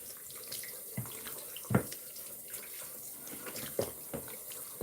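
Water runs from a bathroom tap into a sink while a face is rinsed, a quiet steady trickle broken by several brief splashes close by.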